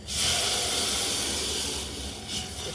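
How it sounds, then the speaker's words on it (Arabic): Blended, strained tomatoes hit garlic fried lightly golden in a hot pan and erupt into a loud, steady sizzle, a broad hiss that stays strong throughout and eases slightly toward the end. "خلطين الطماطم ومصفيينها وطشينا بيها التومه"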